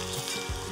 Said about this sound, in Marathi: आता यामध्ये घालूयात बारीक चिरलेला कांदा, मिक्स करूया आणि कांदाही आपल्याला इथे सोनेरी रंगावर परतून घ्यायचा